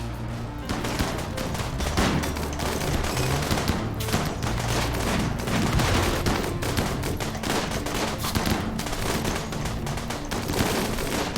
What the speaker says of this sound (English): Soak up some of those rocket launches.